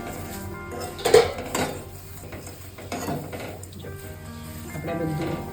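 Spoon scraping and clinking against a pan as khakhra masala is stirred and roasted, a few distinct knocks and rattles amid a busy kitchen background with faint voices.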